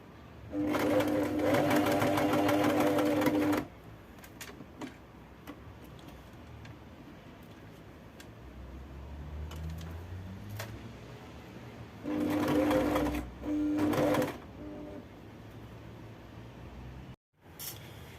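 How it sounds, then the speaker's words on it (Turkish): A sewing machine stitches between beads and the fabric of a white shirt's collar, two loud bursts of running at the start and again near the end, with quiet handling noises in between. "şimdi e, boncukla kumaşın arasını dikiyorum"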